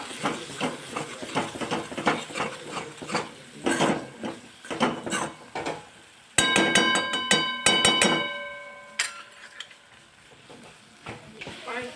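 Spoon stirring turmeric, chili and coriander-cumin powders in a metal pot for a Gujarati val bean curry, with repeated scraping and clinking, a short burst of ringing metallic taps, and a soft sizzle underneath; a voice talks over parts of it.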